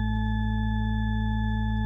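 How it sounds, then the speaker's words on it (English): A steady electronic drone from a bank of sine waves, several pure tones stacked together, holding constant and fairly loud with no variation throughout. "It's a bank of sine waves."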